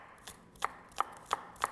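A knife chops an onion on a cutting board in a home kitchen, four crisp, evenly spaced taps about a third of a second apart, close and fairly quiet with no talking.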